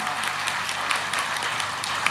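An audience at a Hindu religious discourse claps in a dense, steady round of applause that fills the whole short stretch.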